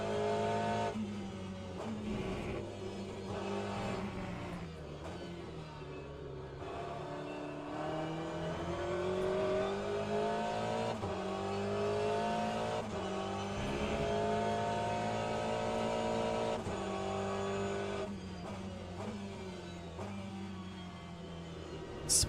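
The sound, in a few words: Aston Martin race car engine in video game Le Mans Ultimate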